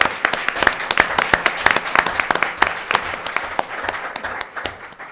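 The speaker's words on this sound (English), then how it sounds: "I'll give her a round of applause." Applause at a city council meeting: a small crowd claps in quick, overlapping bursts of distinct hand claps, close and lively, then thins out and fades toward the end.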